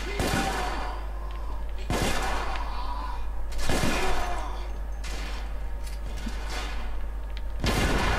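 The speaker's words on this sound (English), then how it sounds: "So we've got the duelist revolver there. I forgot it fires 2 shots every single time I pull the trigger." Duelist revolver in the video game The Order 1886, firing in sharp loud cracks roughly every two seconds, each shot ringing out with a reverberant tail over a low steady background hum.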